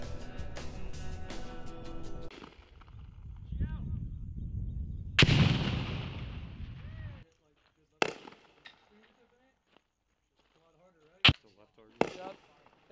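Sharp, loud weapon reports from a live-fire machine gun range where Marines are training ring out and echo, first under talk and then as isolated cracks separated by quiet.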